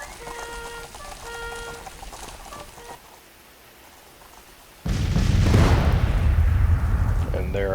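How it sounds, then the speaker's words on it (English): Civil War artillery fires in the strategy game Grand Tactician: The Civil War. A sudden, heavy booming rumble breaks in loudly and keeps rolling, following a quieter stretch with faint tonal chimes. "Their artillery is now opening fire."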